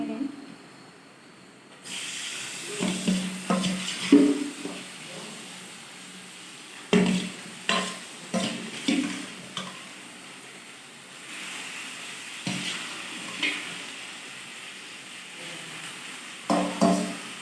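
Meat dropped into a hot pan bursts into a loud hissing sizzle after a quiet start, then keeps frying with bursts of stirring scrapes that rise and fade over the steady spatter.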